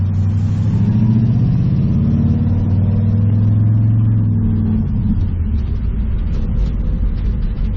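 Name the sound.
1969 Mustang engine running and revving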